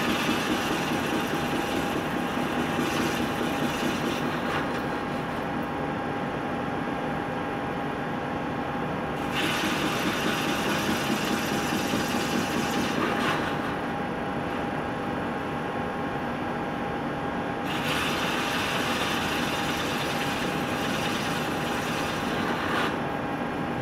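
A CNC machine cuts a mold core with tunnel gates, a steady, loud, droning whir with a constant tone that swells and eases in long cycles and never stops, with no talking.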